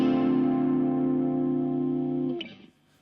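An electric guitar chord rings out through a PastFX Chorus Ensemble MN3007 Mini chorus pedal, sustained with a wide shimmering sound for about two seconds before being cut off, played alone without talk.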